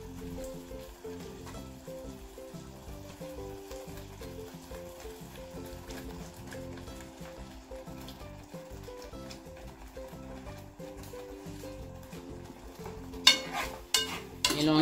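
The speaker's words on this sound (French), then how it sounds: "Mélangez le tout." Tomato sauce mixture with tomato paste being stirred in a pan for egg-stuffed meatballs, a soft steady scraping and faint sizzle running throughout, with a few sharper utensil clinks near the end.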